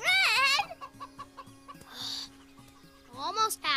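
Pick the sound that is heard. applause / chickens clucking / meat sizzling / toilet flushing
chickens clucking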